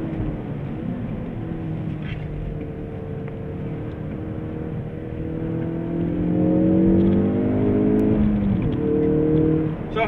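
A 2017 Ford Focus RS engine pulls hard uphill on a race track, a steady loud drone that climbs in pitch as it accelerates and stays up through the run, with no talk over it.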